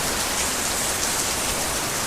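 Steady rain pours down in a Minecraft world, a dense unbroken hiss of drops hitting surfaces, loud and close throughout with no voices.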